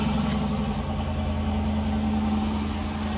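A 2021 Dodge Durango Hemi V8 idles close by, its deep, throaty exhaust rumble holding an even, unbroken drone with no voices over it.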